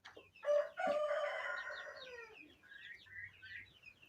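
A rooster crows loudly and close by, followed by softer clucking and calls from hens, with no talking.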